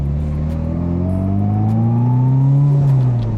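Turbocharged Mitsubishi Evo X driving from inside the cabin, engine note climbing steadily as it accelerates under load with a loud, continuous whir and no talking.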